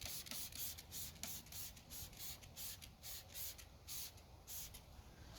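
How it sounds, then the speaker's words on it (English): Short hissing bursts of a spray bottle of wheel cleaner on a car's wheels repeat in a quick, uneven rhythm, quiet and close, with no talking. "spray it on"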